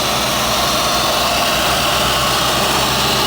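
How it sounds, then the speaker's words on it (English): A 1990 Chevrolet Corvette C4 with the 245-horsepower L98 V8, 77,000 miles, running steadily and loudly with a dense, unbroken roar recorded up close. "We'll go ahead and start it up here. As you can see, this engine starts right up."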